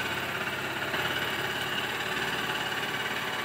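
Honda CB Unicorn 160 BS-6 motorcycle engine running at high revs, a steady mid-pitched hum with faint vibration and knocking throughout, close and continuous with no talk.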